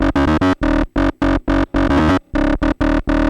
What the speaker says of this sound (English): Stereo distortion. And to me, that sounds very intense.